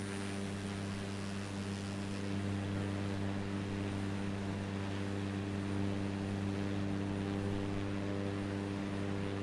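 A Cessna's propeller engine drones steadily in Microsoft Flight Simulator 2024, a loud continuous hum with strong low tones that does not change throughout.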